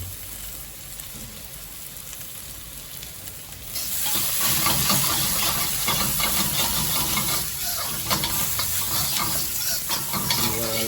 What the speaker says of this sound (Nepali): भुट्ने एकछिन।